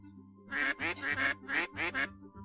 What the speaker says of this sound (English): At that quack, she turned to the duck on her arm.